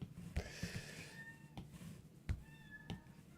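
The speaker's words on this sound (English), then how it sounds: "my cat is meowing" A cat meows repeatedly from just outside a room, several short, fairly faint complaining calls spaced irregularly over a few seconds, with no talking over them.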